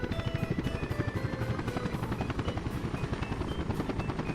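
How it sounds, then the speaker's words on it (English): Helicopter rotor in the Workers and Resources city-building game, a steady rapid thumping chop with continuous engine whine throughout, loud and close with no talking. "So when this helicopter is going forward, those little wings generate a little bit of lift, and they actually take load off the blades"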